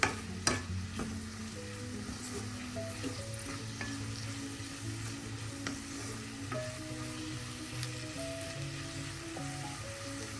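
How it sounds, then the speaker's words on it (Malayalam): Crab curry masala sautéing in a pan, a steady low sizzle under repeated scraping strokes of a spoon stirring the mixture, close and continuous with no voices. "അത് ഇതോടൊപ്പം ഒന്ന് മിക്സ് ചെയ്യാം. എല്ലാം കൂടെ വഴറ്റിയെടുക്കാം."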